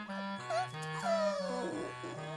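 Cartoon puppies whimper and whine in a few short, rising and falling cries over soft, stepped musical tones, all fairly quiet and brief.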